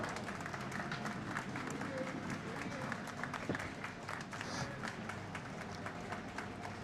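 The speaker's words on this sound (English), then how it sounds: "The applause you're hearing is in the background is for the teams coming off of sheet A here into the warm room" Scattered applause in a curling rink as teams leave the ice for the warm room, soft distant clapping blended with crowd murmur and arena ambience.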